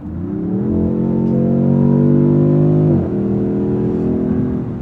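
A 2026 Dodge Charger Scat Pack engine revs hard, its pitch climbing steadily as it accelerates, dipping briefly as it shifts, then pulling higher again, loud and close.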